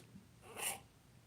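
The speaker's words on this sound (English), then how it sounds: "Oh, I gotta sneeze." A single short sneeze bursts out, faint and close, in an otherwise quiet room.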